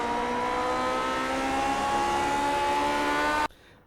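Lotus 49 race car in iRacing, its engine holding a loud, steady high-pitched drone close up that cuts off abruptly as the driver lifts to shift up to fourth, leaving a faint low hum.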